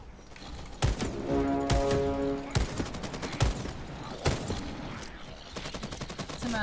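Gunfire in a multiplayer shooter video game: a rapid rattle of shots with several sharp, loud reports spread across the clip, over a steady layer of game noise.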